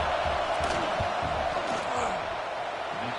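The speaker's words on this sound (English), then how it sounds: "This crowd trying to do its part to get inside the kicker's head" Steady roar of a football stadium crowd during a field goal attempt, a dense, loud wash of voices and shouting that holds level throughout without a break.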